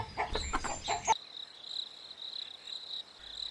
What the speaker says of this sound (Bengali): তখন মুরগিগুলো ডাকাডাকি শুরু করলো